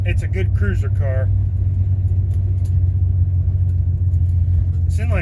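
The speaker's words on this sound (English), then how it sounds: "This inline 6 runs really," An inline-six car engine idles steadily with a loud, deep rumble that lasts throughout, while someone talks briefly at the start and again at the end.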